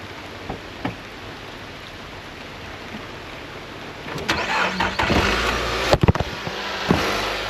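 A car with a newly replaced dead battery cranks and its engine catches about halfway through, after a quiet stretch of faint background hiss, then runs with an uneven idle and a few sharp clunks nearby.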